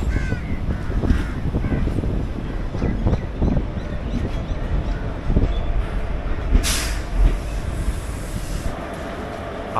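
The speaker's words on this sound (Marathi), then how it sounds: "आपली ट्रेन आता मेट्टूपालयम स्टेशनवरती पोहोचली आहे" A train pulling into Mettupalayam station, with a steady, loud rumble of rail wagons and a brief hiss partway through, while crows caw nearby.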